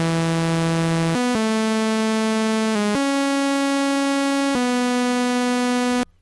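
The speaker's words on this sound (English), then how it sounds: "This is the MIDI that we're going to use to show our sub bass." A synth bass plays a slow line of sustained, buzzy low notes, a few held tones stepping between pitches, alone and steady.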